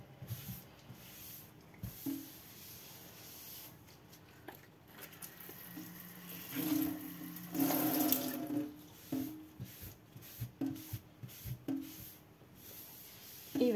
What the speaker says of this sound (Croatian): Sada ćemo da isperemo sudoperu.